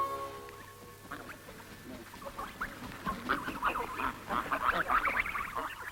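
A flock of geese honks and cackles continuously, many overlapping calls building louder toward the end over a low background hum.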